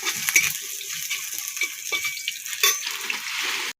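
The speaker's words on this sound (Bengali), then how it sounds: "আলু দিয়ে ভাজা ভাজা করবো" Potatoes fry in oil in a wok-style pan, a loud continuous sizzle close by with scattered scrapes and clinks of stirring, then an abrupt stop, no voices.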